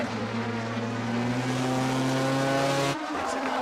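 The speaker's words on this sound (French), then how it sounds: "La voiture numéro 5 de Chevrolet fonce droit vers le titre." Chevrolet race car number 5 charges along the track, a loud sustained engine roar with strong tonal whine that cuts off abruptly near the end before lighter engine noise resumes.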